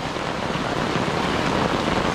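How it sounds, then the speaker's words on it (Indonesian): Heavy rain pours steadily on a mountain trail up Mount Marapi, a dense, loud, unbroken hiss of drops with no pauses across the whole stretch. "hujan lebat banget di sini"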